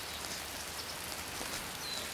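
Steady rain falls in Metal Gear Solid 3, forming a dense, even hiss of drops that holds at the same level throughout with no talking, and a faint bird call comes through once or twice.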